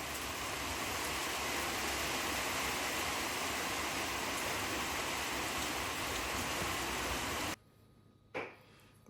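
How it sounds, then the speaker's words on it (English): Heavy rain pours outside as a dense, steady roar of broad hiss that fills most of the clip before cutting out abruptly near the end. "It's raining, you guys. You hear that?"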